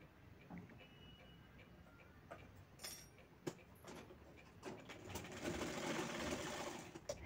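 A sewing machine stitches the shoulder seam of a one-strap baby frock for a toddler. Its steady whirring runs close and alone throughout, with a few light clicks, and it grows a little louder toward the end.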